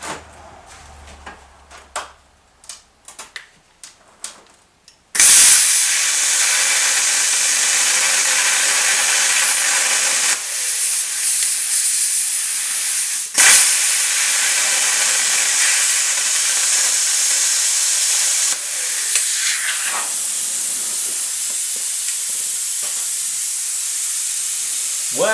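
A loud, continuous hissing grind runs for about twenty seconds while metal is cut on a Yamaha Commando motorcycle frame, following a few sharp knocks and taps, with brief breaks in the steady cutting noise.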